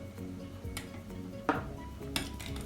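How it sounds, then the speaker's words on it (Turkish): A whisk knocks and clinks against a bowl while cake batter of sugar, milk and cocoa for a coconut cake is beaten, a busy run of light taps and scraping with a couple of sharper clanks. "1 su bardağı unumuzu da alarak tekrar çırpmaya devam ediyoruz."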